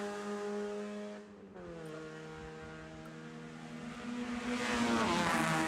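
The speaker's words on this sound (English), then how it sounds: "here comes your safety car" A safety car drives on the Mid-Ohio racetrack during an SCCA Super Tour event. Its engine makes a steady, moderately distant hum that dips briefly, then builds louder toward the end.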